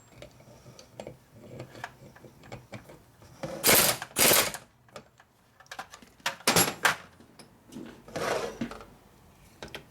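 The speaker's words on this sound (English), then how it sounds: "Okay, the gear still moves," Gears clicking and ratcheting as they are turned by hand inside a freshly rebuilt 1965 Harley-Davidson panhead FL/FLH four-speed transmission, a close series of light ticks with a few louder bursts, no talking.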